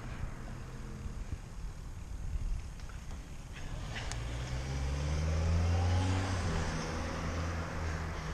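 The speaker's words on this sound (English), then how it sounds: "There's a car behind you!" A car drives up behind a cyclist on a road, its engine swelling into a steady, fairly close rumble that builds toward the end with no talk over it.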